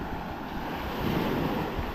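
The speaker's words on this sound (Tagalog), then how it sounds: "Grabe kalakas ng alon" Strong ocean waves surge and crash at high tide after a typhoon on a fishing shore, a loud continuous roar of surf mixed with heavy wind noise buffeting the microphone.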